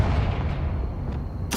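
A Confringo blast spell in Hogwarts Legacy sounds as a heavy, booming impact with a low rumbling tail, followed by a sharp burst at the end.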